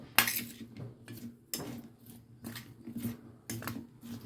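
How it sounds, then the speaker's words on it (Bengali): A spoon mixes raw tomato with red chilli powder and other ingredients in a bowl, giving several distinct clinking scrapes spaced about a second apart, close and fairly quiet. "এখন আমি এই সব উপকরণগুলোকে খুব ভালো করে একটু মিশিয়ে নেব"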